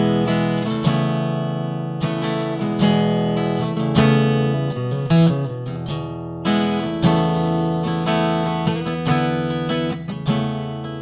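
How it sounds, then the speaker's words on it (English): A Line 6 Variax digital guitar modelling a Martin D28 acoustic plays strummed chords and picked notes in a steady, close, moderately loud passage with clear attacks, and no voice is heard. "They sound a bit like this. This is a Martin D28."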